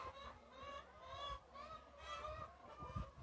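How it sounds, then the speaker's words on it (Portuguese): Rooster on a rural farm giving a series of loud, harsh honking crows in close succession, about four calls in three seconds, fairly near with faint background noise. "O galo músico."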